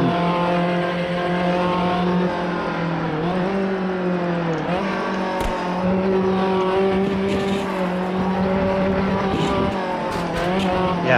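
Mazda MX-5 racing in Automobilista 2, its engine droning steadily at high revs with pitch dips on gear changes and brief tire squeal, continuous and close throughout.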